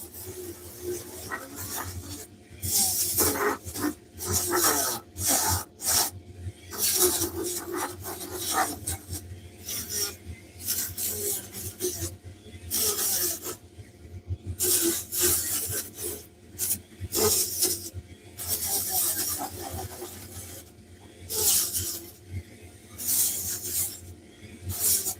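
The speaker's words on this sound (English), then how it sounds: "So I'm just going to sand this" A Dremel sanding a wood carving, a wizard prototype, giving repeated rasping, scratchy bursts that start and stop in short strokes over a steady low hum, close and fairly loud throughout.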